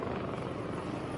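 Navy helicopters flying over Malaysia during a military exercise, a steady loud rotor drone that fills the whole moment with no break.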